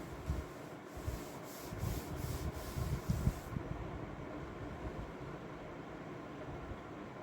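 Eraser or hand rubbing chalk or marker writing off a classroom board during a Class 10 trigonometry lesson, a run of several scrubbing strokes over about three seconds, fairly close and moderate, then fading to quiet room tone.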